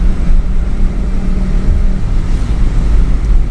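A manual car driving along in fourth gear, with a loud, steady low engine and road rumble and some wind buffeting close to the microphone, no voices.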